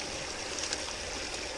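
Water pumped through a testing setup flows in a steady, even rush, a continuous close stream with no talk and no pauses, constant at a fairly quiet level.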